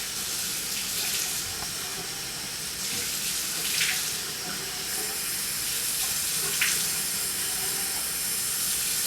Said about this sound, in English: So I'll splash it up here about 3 or 4 times to make sure it's nice and wet.